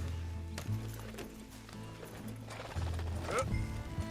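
A horse gallops in the video game Red Dead Redemption 2, with steady clip-clopping hooves close by under a low rumbling music bed and a brief whinny-like sweep.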